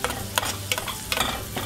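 Wheat flour ladoo mixture frying in a pan on a low flame, with a soft steady sizzle broken by repeated scraping stirring strokes at a brisk, uneven rhythm, close and alone without talk.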